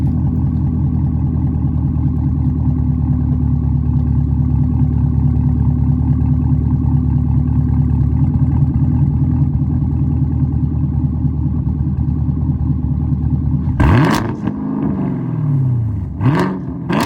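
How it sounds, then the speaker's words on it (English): A Chevrolet Camaro SS with an AWE Track axle-back exhaust idles loudly up close with a deep, steady rumble, then gives two sharp revs near the end. "let's get some revs now."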